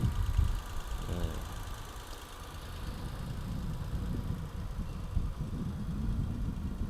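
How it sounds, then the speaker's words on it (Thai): A 2011 Nissan March's engine idles with a steady low rumble, holding an even loudness throughout with no other sounds standing out. "ฟังเสียงเครื่องยนต์อีกครั้งครับ"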